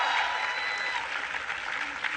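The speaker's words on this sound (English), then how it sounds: "Give him a round of applause." Audience applause at a political rally with a Virginia governor candidate, a steady dense clapping wash filling the room for about two seconds, with a faint voice briefly present early on.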